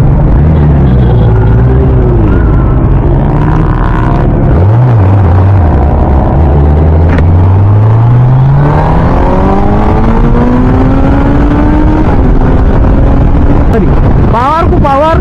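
A loud motorcycle engine revs hard, pitch climbing and dropping through repeated throttle bursts and rising up through the gears, with wind buffeting the microphone throughout.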